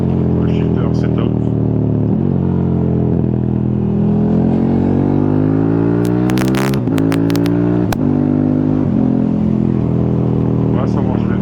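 Ride on a KTM 1290 motorcycle with a loud, steady engine drone whose pitch climbs and then steps as the quickshifter snaps through gear changes, with brief clatter bursts near the middle and voices talking over the engine.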